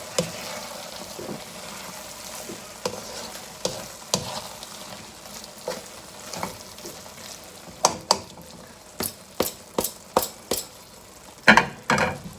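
Lamb brain mixture stirred in a pan with the heat switched off, a soft fading sizzle under a string of sharp scraping and tapping strokes that grow more frequent toward the end.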